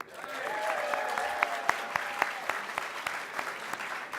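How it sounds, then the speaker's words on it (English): Audience applause at a student animation awards ceremony in Dingle, a steady wash of many hands clapping under a faint background tone, with distinct individual claps standing out. "You're very welcome to the sixth round of applause for the six."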